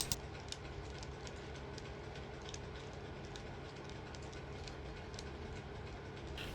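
A model train runs steadily on a layout representing Dawlish Warren around 1963, with a continuous faint rumble and a regular ticking clatter of wheels over rail joints throughout.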